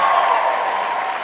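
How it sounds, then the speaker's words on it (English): An in-person audience at a live comedy podcast taping breaks into applause and light cheering, a dense, steady wash of clapping from a crowd that fades slightly at the end of a short burst. "Round of applause if you're single here tonight."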